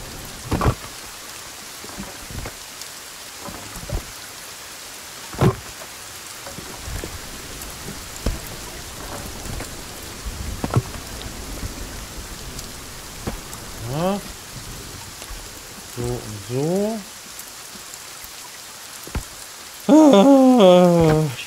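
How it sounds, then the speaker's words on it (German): Rain falls in the survival game Sons of the Forest, a soft steady patter with scattered sharper drops and thuds, broken near the end by brief louder tonal game sounds. "Gerade bei Regen macht das auch noch mehr Spaß."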